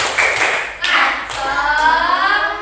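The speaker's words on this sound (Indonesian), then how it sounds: "Sekarang kita beri dulu tepuk semangat biar tambah semangat dalam belajarnya." A primary school class claps a short rhythmic spirit clap in the classroom, a few quick bursts of claps close by with faint voices.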